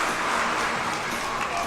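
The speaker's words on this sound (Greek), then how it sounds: "Δίναμε χειροκρότημα στο μεγάλο Σουηδό" A stadium crowd at the Cyprus International Athletics Meeting applauds in a steady, even wash of distant clapping that fills the whole stretch.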